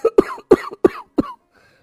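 An old man coughs from a cot, a raspy, hoarse cough repeating five times in quick bursts, close and loud, then fading to quiet.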